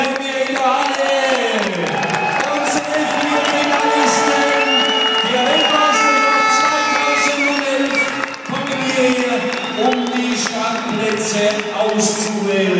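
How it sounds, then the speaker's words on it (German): Crowd applause and cheering fill an indoor ice speedway hall at the 2011 world championship in Inzell, a loud steady wash of clapping throughout, with an announcer's amplified voice carrying over it. "Und jetzt empfangen wir Sie mal mit einem riesen Applaus"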